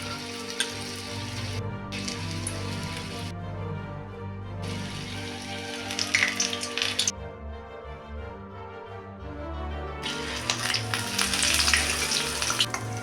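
Onions deep frying in hot oil over a low flame give a loud, steady sizzle, a continuous crackling hiss that swells and dips as pieces are moved.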